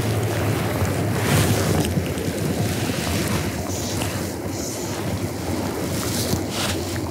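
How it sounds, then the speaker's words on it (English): A river in southern British Columbia rushes and roars steadily in the rain, a broad, continuous wash of turbulent water with wind buffeting the microphone, close and loud throughout. "Water's just raging away."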